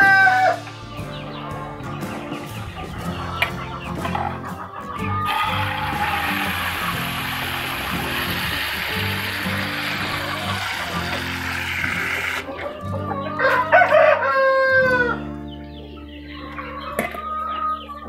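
Chickens cluck around close by, with a rooster crowing over them and a steady hiss of pesticide being sprayed against chicken lice through the middle, while someone talks.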